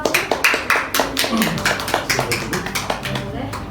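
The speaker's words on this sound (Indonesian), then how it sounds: "Tepuk tangan untuk kelompok 1." A student group in a university class gets a short burst of applause, a few hands clapping close by in quick uneven rhythm that fades gradually, with talk mixed in.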